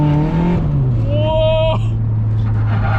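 A turbocharged Honda Civic engine strains and drones loudly in third gear while driving through snow, its pitch bogging low and then climbing, with people talking excitedly over it.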